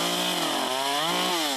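A chainsaw runs steadily and loudly up close while clearing storm-damaged trees in northwest Houston, its engine pitch dipping and rising again under load over a short burst.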